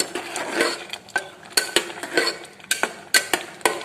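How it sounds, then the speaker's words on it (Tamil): Metal spoon scraping and clinking against a cooking pot while grated coconut is stirred into tomato kootu, irregular sharp knocks and scrapes at close range, with no talking. "தேங்காய் பூ சேர்த்து ஒரு மிக்ஸ் கொடுத்துக்கலாம்."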